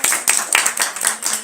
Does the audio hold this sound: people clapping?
yes